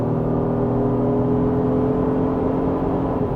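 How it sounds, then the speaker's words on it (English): A Honda Pilot TrailSport in sport mode sends a steady, droning exhaust hum with a low engine whir, heard close and continuous from the cabin with no talking. "So I just switched it into the sport. The exhaust has a different sound."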